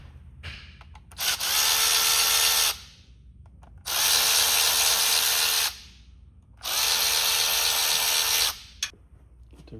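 A power tool whirs in three steady bursts of about two seconds each, separated by short pauses, as it starts the cam plate bolts on a Harley-Davidson engine. The bursts are close and loud against a quiet background.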